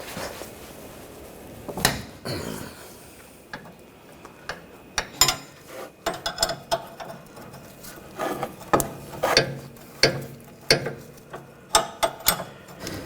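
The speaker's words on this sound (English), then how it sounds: "Using a 18mm wrench, loosen this up." An 18mm wrench working a rusty sway bar link nut loose on a 2014-2020 Nissan Rogue, with repeated close metallic clicks and scrapes in uneven bursts, no talk.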